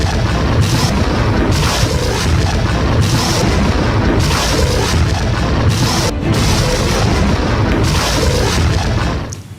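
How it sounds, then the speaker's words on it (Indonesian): Hezbollah rocket barrage explosions in southern Lebanon: a dense, continuous roar of loud booms and rumbling blasts with repeated heavier impacts, unbroken for nearly ten seconds. "Roket-roket yang diluncurkan oleh Hizbullah memiliki daya ledak cukup tinggi."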